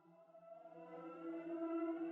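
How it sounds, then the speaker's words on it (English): A looped atmospheric sample for UK garage production plays alone as a sustained, tonal drone with layered harmonic tones that slowly swell louder and rise slightly in pitch, like a distant siren-like pad. "We've got this Atmos loop as well,"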